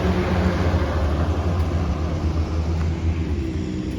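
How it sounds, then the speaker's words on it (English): Another heavy vehicle, likely a sanitation truck, rumbles past on a small-town street in Bennington, New Hampshire, with a steady, deep engine drone close by throughout. "And another noisy vehicle."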